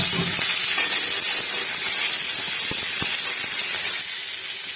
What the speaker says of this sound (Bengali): এবার এতে একটু সর্ষের তেল দিয়ে দিচ্ছি, দিয়ে তেল দিয়ে ভালো করে ভেজে নেব লাল লাল করে